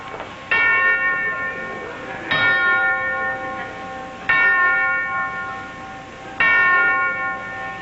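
A bell on a 1953 game show rings out in several evenly spaced, loud metallic strikes. Each strike leaves a bright, lingering ring that fades before the next hit.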